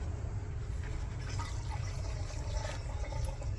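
Gasoline pours steadily into the gas tank of a neglected, long-abandoned vehicle, a continuous splashing liquid rush with a low rumbling fill, close and fairly loud, unbroken for the whole stretch.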